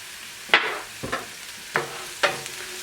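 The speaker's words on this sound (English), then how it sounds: "Cook this until you can smell that thyme and oregano and basil cooking in there" Onions and garlic frying in a pan with thyme, oregano and basil for chicken parmesan, a low sizzle broken by four sharp scrapes of a utensil against the pan, close and quiet, no talk.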